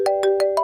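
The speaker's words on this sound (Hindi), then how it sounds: "फोन आ रहा है" An incoming-call ringtone plays a quick, close, loud melodic phrase of four pulsing electronic notes.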